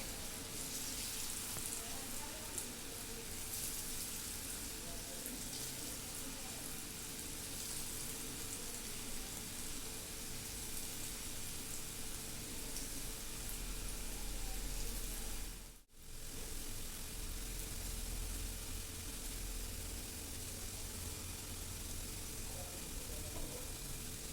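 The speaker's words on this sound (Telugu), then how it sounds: "ఇలా ఆలు పీసెస్ అన్నింటినీ ఒక్కొక్కటిగా వేసుకొని బాగా ఫ్రై చేసుకోవడమే" Potato pieces deep-frying for homemade french fries, a steady broadband sizzle that runs unbroken for the whole stretch with one brief dropout midway, close and fairly even in level.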